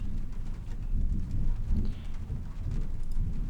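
Steady rain falls with deep, rolling thunder rumbling low and continuous in a dark night scene of the video game Trüberbrook, heard alone without talk.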